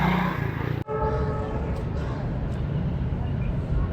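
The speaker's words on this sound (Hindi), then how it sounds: "36 डाउन सर सैयद एक्सप्रेस" Sir Syed Express passenger train passing through Gujar Khan railway station, a steady loud rumble with a horn-like tonal blast near the start, heard close throughout.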